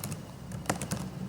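Typing on a computer keyboard, a handful of soft, quick key clicks close by over a faint room hiss.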